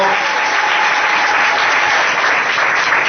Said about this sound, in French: Est-ce que nous pouvons acclamer pour notre grand-mère de France? Acclamons pour notre maman.